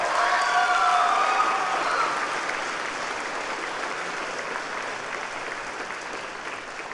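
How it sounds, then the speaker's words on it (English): Audience at a Monroe High School graduation ceremony bursts into sustained applause, loud at first and gently tapering, with a few faint whistles or cheers early on and no speech over the clapping. "Let's give him a big round of applause."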